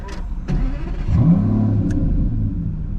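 An Aston Martin V12 Vantage S engine revs up sharply, climbing to a loud, sustained roar that holds steady, with a few sharp clicks over the top.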